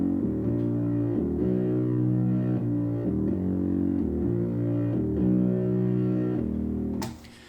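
A synth sub bass preset run through Ableton's Pedal distortion effect plays a looping, gritty low riff in repeated phrases, loud and upfront, before cutting off abruptly near the end.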